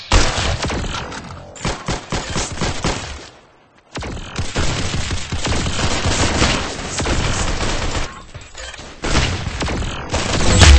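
Gunfire in the Roblox Arsenal shooting game, rapid bursts of close, loud shots and fusillades nearly continuous over the span, with one brief lull in the middle and no voices.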